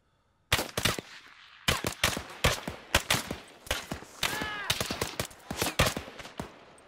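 Gunfire in ArmA 3 during a squad operation, sharp rapid bursts of automatic fire, loud and close, repeating in clusters over about six seconds with brief pauses and no talk between them.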